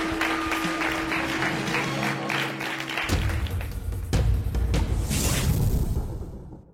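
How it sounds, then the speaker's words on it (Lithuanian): Studio audience applauding on a televised quiz show, a sustained round of clapping under a tonal music sting that shifts midway, then swells louder before fading out. "Nuoširdūs plojimai."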